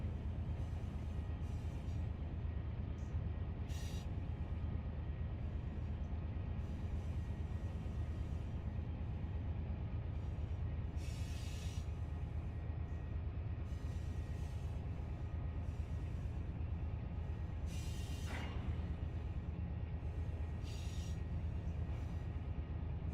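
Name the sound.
train arriving in the Run8 train simulator video game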